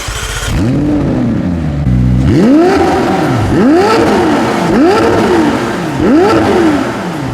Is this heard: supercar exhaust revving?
yes